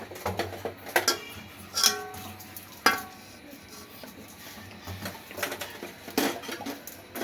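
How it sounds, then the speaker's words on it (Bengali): Leafy greens (shak) frying in a pan, with spoon scrapes and metal clatter from stirring over a soft sizzle, a few sharper knocks standing out near and in the clear. "এই যে আমি এখন হচ্ছে সেই শাকটা ভাজি করব"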